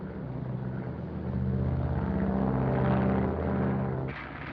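A remote-controlled airplane drones overhead in an old film scene, its engine a steady, moderately distant rumble that swells slightly and then eases, heard alone with no talk.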